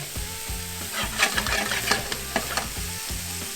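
Onions sizzle and crackle steadily in a hot pan with garlic and guajillo chili for a wild mushroom sauté, a spatula scraping and stirring in a repeating rhythm, close and fairly loud.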